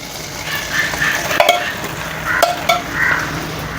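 Butter sizzles and crackles in a frying pan, with soft stirring scrapes and a few sharp clinks of a utensil against the pan, close and moderately loud.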